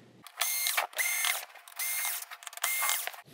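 Close, whirring bursts of a small electric screwdriver backing out screws from the main board of a Sony KDL-46HX800 TV, four separate runs with short pauses, no talking.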